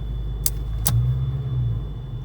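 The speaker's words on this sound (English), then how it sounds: "Put it in drive. Okay, so she wants to buck and stuff." A Ford Foxbody engine shifted into drive and bucking under load from a fuel problem gives a steady low rumble throughout, with two sharp clicks early on and a throbbing hum that swells through the middle.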